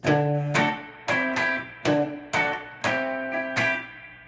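An electric guitar plays a short rhythm lick twice, with punchy chord stabs in an even, repeating pattern, close and loud, with no talking.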